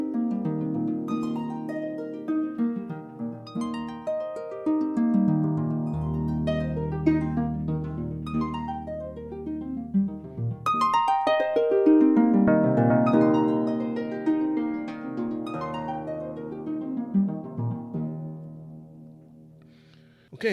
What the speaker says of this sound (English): so every harp is playing the exact same MIDI data